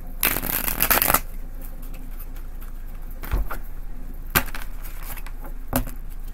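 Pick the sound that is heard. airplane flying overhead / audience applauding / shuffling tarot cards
shuffling tarot cards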